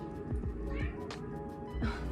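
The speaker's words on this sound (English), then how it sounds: "Did you hear my cat? He wants to be in the room with me" A cat meows in a few short calls from a nearby room, audible over the steady room tone of a space full of houseplants.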